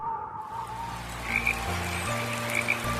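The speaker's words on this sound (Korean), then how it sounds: "개굴개굴 더 크게 울어요." A green tree frog croaks steadily in low, rasping pulses, joined by softer chirping calls in the background, fairly close and unbroken for a few seconds.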